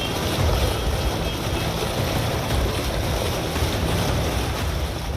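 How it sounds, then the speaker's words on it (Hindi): Rainwater gushes up and out of a blocked street manhole on a flooded Delhi road, a continuous loud rushing roar with no pauses, mixed with wind buffeting the microphone. "उस मैनहोल से पानी उल्टा बाहर की तरफ निकल रहा है"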